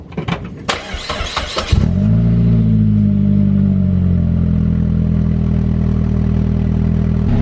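Saab 9-5 wagon with a straight-piped exhaust cranks over for under two seconds, then catches and settles into a loud, steady, deep idle rumble that holds close and unbroken to the end.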